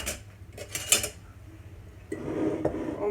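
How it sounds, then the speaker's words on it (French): Bread dough ingredients being stirred in a bowl for stuffed khobz chahma, giving a run of clinks and scrapes of utensil against the bowl, close and moderately loud, then a softer, steadier mixing rustle. "On mélange bien le tout."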